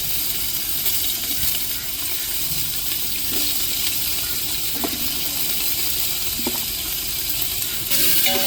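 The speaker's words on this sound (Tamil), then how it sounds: "வெங்காயம் நல்லா வதங்கி வரட்டும்." Onions with cinnamon and other spices frying in a pan, a steady soft sizzle with a few light clinks and stirring scrapes.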